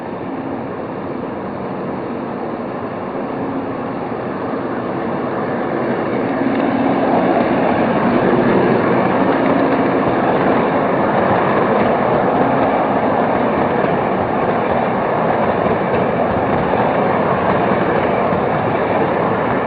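A Lionel Southern Atlantic #1905 model train runs on a Christmas layout under the tree, giving a steady, continuous rolling rumble and rail noise that swells slightly after the first few seconds and stays even throughout.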